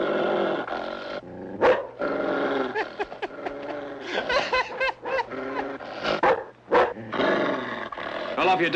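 A dog snarls and growls aggressively at a man in a 1965 Western TV drama, loud and close, breaking into sharp barks with rising and falling snarls across the whole stretch.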